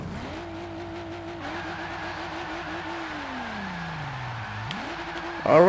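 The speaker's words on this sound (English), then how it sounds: "Alright, a burnout and a drift out the... oh god." Drift car doing a burnout: a steady engine drone holds at high revs, sags and climbs back again, then ends in a sudden louder burst of noise from the spinning tires.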